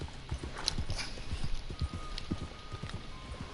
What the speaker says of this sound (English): I was riding on my horse